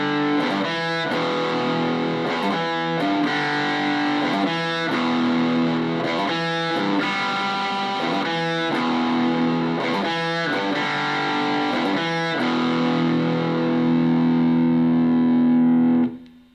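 Distorted electric guitar plays the intro riffs of a song, chugging repeated chords and short riff phrases in a driving steady rhythm, loud and up front, ending on a held chord that cuts off.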